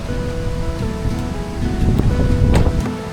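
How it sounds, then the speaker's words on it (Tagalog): Strong wind at a riverside waterfall picnic spot in Real, Quezon buffets the microphone with a constant roaring rush, swelling in gusts with a faint rustle underneath. "Sobrang lakas ng hangin."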